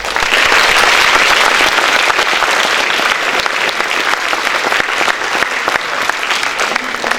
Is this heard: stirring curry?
no